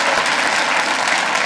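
Audience applause at a stand-up comedy special, steady dense clapping from a large crowd filling the moment with no talk over it.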